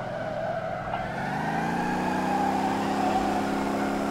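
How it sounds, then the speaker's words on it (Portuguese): A V8 turbo limousine drifts in the Motor Town driving game, its engine droning steadily while tires squeal and skid throughout, with harmonic engine tones climbing as it holds the slide. "Limousine mandando muito no drift."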